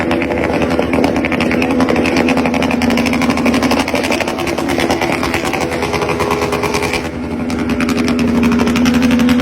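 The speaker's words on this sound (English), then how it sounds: "the Herex-inspired world of exhaust screaming and flame spitting" Small-capacity motorbike engine with a loud aftermarket exhaust, a continuous buzzing, high-pitched drone that stays close and loud with slight revving swells.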